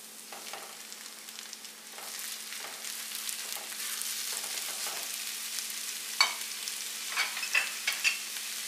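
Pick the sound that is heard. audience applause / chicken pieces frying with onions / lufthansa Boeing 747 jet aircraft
chicken pieces frying with onions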